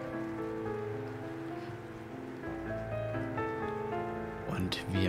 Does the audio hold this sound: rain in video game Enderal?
yes